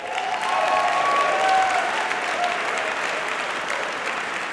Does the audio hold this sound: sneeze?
no